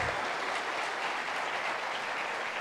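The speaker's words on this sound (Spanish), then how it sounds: "Le damos un fuerte aplauso" Applause from a cybersecurity congress audience welcoming a speaker to the stage, a dense continuous wash of clapping that holds at an even, fairly loud level throughout, with no voices over it.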